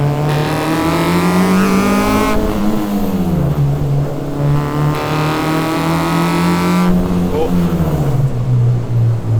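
A K-swapped Honda Civic EG with VTEC revs hard on a mountain touge road, its loud engine note climbing steadily through the gears with brief dips at each shift, heard from inside the car.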